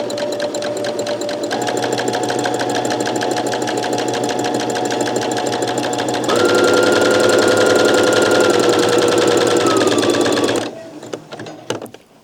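A sewing machine runs steadily through fabric with a rapid, even whirr that speeds up partway through. It winds down near the end, leaving a few faint clicks, and no one talks.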